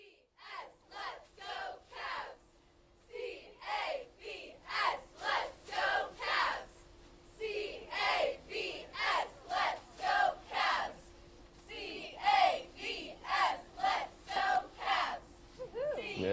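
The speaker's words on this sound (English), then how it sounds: "They're cheering right now." Cheerleaders at a Fairfax County public school chant a rhythmic team cheer for the Cavs, a steady run of loud, evenly spaced shouted bursts repeating for the whole stretch.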